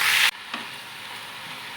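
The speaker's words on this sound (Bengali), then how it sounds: "শাকটা ভাজা করে নেব।" Red amaranth greens seasoned with salt and turmeric fry in a pan. A loud hiss bursts at the start, then settles into a quieter sizzle broken by a few sharp spatula scrapes as the leaves are stirred.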